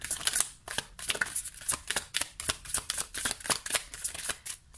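Tarot cards being shuffled by hand, a quick series of crisp riffling and flapping bursts in a steady rhythm, close and clear with no talking.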